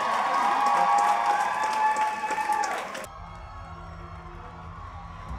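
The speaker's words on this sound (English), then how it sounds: "And one more round of applause." A talent show audience applauds and cheers loudly for about three seconds, a dense wash of claps and whoops, before it cuts abruptly to quieter room tone.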